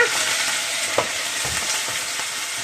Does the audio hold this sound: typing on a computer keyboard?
no